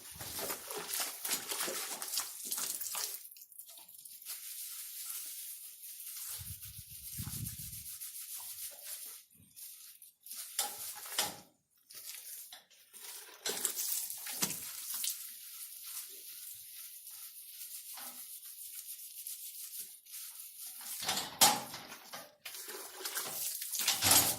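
Water splashing and rubbing as a beef cow's vulva is washed before a CIDR is inserted, intermittent bursts of wet scrubbing and trickling with quiet gaps, close and moderately soft.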